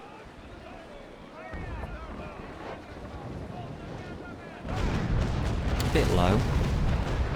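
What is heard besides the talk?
ship cannons firing in the video game Naval Action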